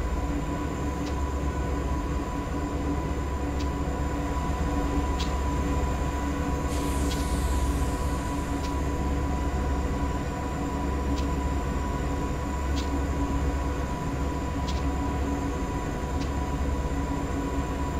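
A Burlington Northern F45 freight train hauling logs, containers, boxcars and tank cars on Stevens Pass in Train Simulator 2015 rumbles steadily with a loud, constant low drone and faint periodic clicks of wheels over rail joints.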